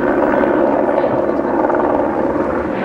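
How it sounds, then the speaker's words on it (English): A Utah Highway Patrol helicopter searches near the top of Mount Olympus, its loud, steady rotor and engine drone continuous and close throughout. "A UHP helicopter searches an area near the top of Mount Olympus."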